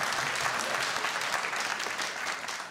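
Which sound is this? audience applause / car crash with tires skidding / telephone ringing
audience applause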